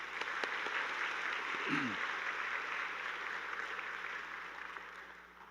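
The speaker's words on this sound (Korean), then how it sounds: "우리 박수로 환영하시겠습니다" A church congregation at a Sunday service claps in welcome for a visiting missionary couple. The steady, fairly loud wash of many hands fills the whole stretch and fades slightly toward the end.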